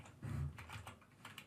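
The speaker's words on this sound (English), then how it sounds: "as soon as I start typing here" Someone types on a computer keyboard, tapping out an uneven run of soft, close keystrokes with a heavier thump near the start. No one speaks.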